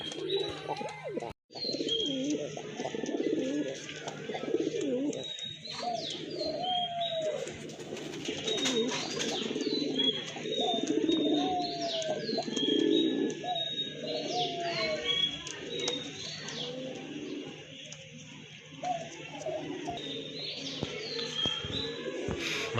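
Pigeons, including a pair of white-bodied Chuina pigeons, coo steadily at a bird market, overlapping soft throaty calls and occasional chirps close by, with faint voices underneath.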